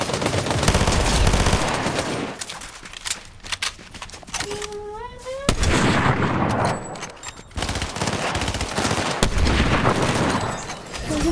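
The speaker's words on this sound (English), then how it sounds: "Alright, that's me shooting. I'm just seeing how it shoots" Gunfire from a weapon test-fired in the video game Fortnite: loud, dense bursts of rapid shots with brief pauses between volleys, plus a short rising electronic tone partway through.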